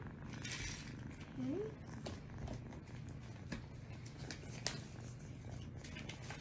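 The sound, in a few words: cat purring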